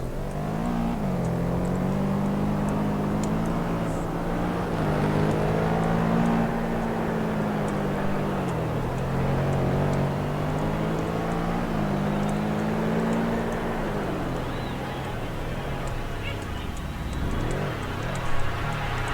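A car's engine hums steadily from inside the cabin over about twenty seconds, its pitch rising and falling gently as the car is driven at varying speed.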